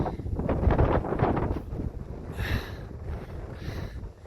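Wind buffets the microphone in loud, uneven gusts on a steep mountain trail at Mummy Mountain, Mount Charleston, rumbling and roaring up close, easing briefly before gusting again.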